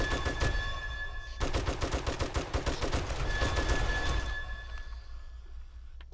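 Loud rapid-fire shooting at a row of zombie mobs in the video game 7 Days to Die, a brief burst, a short gap, then a long sustained volley that tapers into fading echoes.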